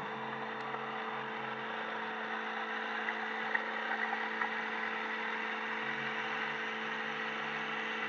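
A Tecnam P2002 light aircraft engine drones steadily at power on the airstrip at Nogara, a loud, constant hum with no pauses and no voices over it.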